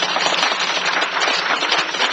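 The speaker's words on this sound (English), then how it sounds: "Clap now." Audience at a jazz talent show clapping, a dense, loud, steady wash of many hands applauding close by with no voices.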